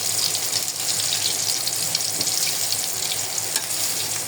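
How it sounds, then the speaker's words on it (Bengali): Leafy greens fry in hot oil in a pan while being stirred, a loud, continuous sizzle with light scraping, close up and without voices. "শাকগুলো আমি দিয়ে দিচ্ছি, ভাজি হয়ে গেছে, নাড়াচাড়া দিতেছি"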